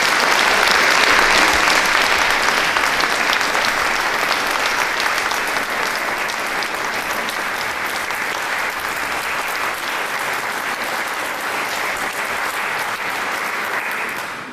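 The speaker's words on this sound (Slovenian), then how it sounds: "pa še en velik aplavz, čeprav še niste videli razstave" A crowd at an art exhibition opening for porcelain painting gives a long, loud round of applause, dense and even for over fourteen seconds before it tails off.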